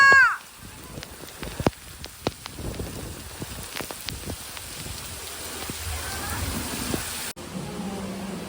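Rain patters steadily nearby with scattered sharper drops hitting a surface, and voices speak briefly at the start.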